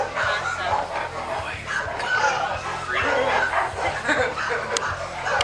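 Rescued pit bulls barking and yipping in a kennel, a noisy overlapping chorus of dogs somewhat in the background while people talk over it nearby.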